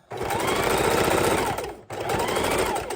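A sewing machine running a straight stitch to attach lace onto a journal cover, a fast loud mechanical rattle in two bursts separated by a short pause.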